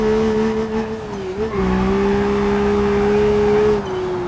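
Rally car in the BeamNG driving game held at full throttle in first gear, a loud steady engine drone with a sustained tonal whine that dips briefly and recovers, running continuously with faint tyre noise underneath.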